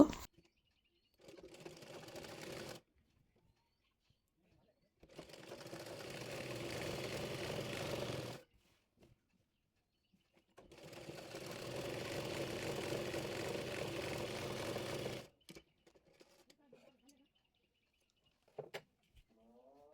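A sewing machine runs in three separate bursts while stitching a palazzo, each a steady whirring hum lasting a few seconds, divided by quiet pauses and closing on a few faint clicks.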